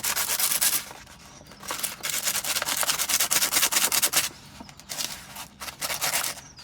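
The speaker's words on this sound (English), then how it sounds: "Add your seeds in the sandpaper" Lupin seeds are rubbed against sandpaper in close, steady rasping strokes, loud and continuous with brief dips between passes and no voices.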